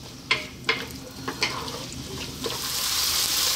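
Carrots and vegetables land in a hot pan over medium heat and fry, a few sharp clatters and stirring knocks before a steady sizzle swells and holds, close and without talk.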